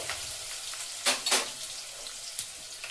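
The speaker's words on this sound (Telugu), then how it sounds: "ఆవాల జీలకర్ర వేగిన తర్వాత ఆలు ముక్కలు వేసుకుందాం ఆవాలు వేగుతున్నాయి" Mustard seeds, cumin and potato pieces frying in hot oil for aloo rice, a continuous close sizzle broken by a few louder crackling bursts, with no talking.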